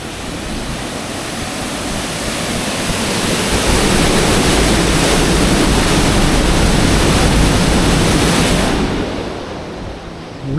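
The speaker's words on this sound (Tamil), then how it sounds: "உள்ள ஆறு மாதிரி தண்ணி உழுந்துட்டுருக்கு." Loud, steady roar of water falling like a river inside a temple in Hyderabad, continuous throughout, swelling slightly in the middle and easing off near the end.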